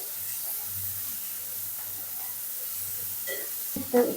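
Chopped onion and green chili hiss and sizzle in a hot pan, a steady faint frying hiss with a brief louder clatter near the end.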